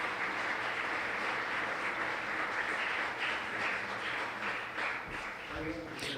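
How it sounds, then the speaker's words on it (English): Audience applause at the opening day of the South School of Internet Governance, a continuous, even wash of many people clapping in a conference hall, moderately distant, fading slightly at the end with faint voices. "Let's give them a round of applause."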